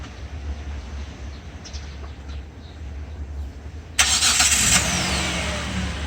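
A Grandeur car engine fitted with an E-NOM1 non-powered turbo device cranks and catches, jumping from quiet idle background to a loud steady running rumble with a brief whine as it starts.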